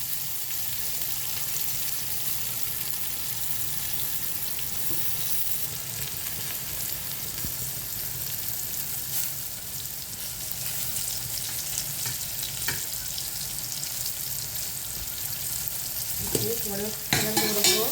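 Garlic, onion and curry leaves sauté in a pan with a continuous, moderate sizzle and frying crackle, and stirring scrapes occasionally come through near the end.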